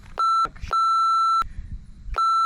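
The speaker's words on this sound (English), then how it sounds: "we can swear and I can beep it out" Censor bleeps sound as four clipped, steady electronic tones of the same pitch in an uneven rhythm, loud and clean with short gaps of near silence between them.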